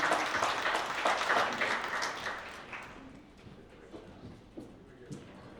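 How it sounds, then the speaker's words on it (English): Applause from a conference audience for a panel at a procurement leaders summit, a dense burst of clapping that thins and fades over a few seconds into scattered claps. "Let's give our panelists a round of applause, ladies and gentlemen."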